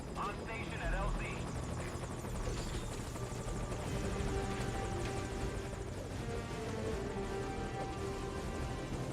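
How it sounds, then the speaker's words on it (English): A helicopter in the Metal Gear Solid 5 video game arrives at a landing zone, its loud, steady rotor roar and buzzing drone filling the scene continuously, with game voices talking over it. "Get on the chopper."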